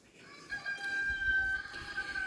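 Chickens on a small farm cluck and call nearby, with a sustained crowing-like note rising over softer fowl sounds in a quiet setting.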